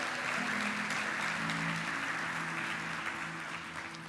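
A congregation applauds at a Portuguese-language church service, dense steady clapping filling the room over a faint low musical hum, holding strong before easing off near the end.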